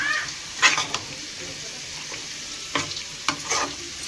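Mutton curry sizzles in a pan while a spoon stirs it, giving a steady frying hiss close by with a few scraping strokes against the pan.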